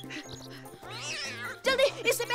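A cartoon cat meows and caterwauls in a rising, wavering cry, with background music and a brief voice over it.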